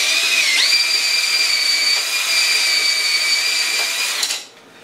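Power drill driving a hand-crank can sealer while making Bavarian-style head cheese, a steady high whine held loud and close for about four seconds, then cutting off.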